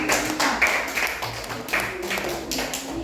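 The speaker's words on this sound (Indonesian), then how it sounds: "tepuk tangan untuk kelompok" Students in a classroom clap for a presenting group: scattered, moderately loud hand claps rattle on for a few seconds with a faint room hum beneath.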